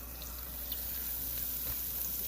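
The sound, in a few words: chuck roast searing in Dutch oven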